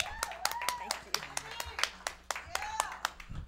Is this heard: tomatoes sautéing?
no